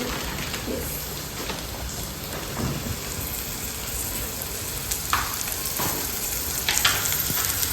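Chopped onions fry in a pan for poha, giving a steady, even sizzle throughout with occasional soft stirring scrapes and clinks, fairly close and with no talking.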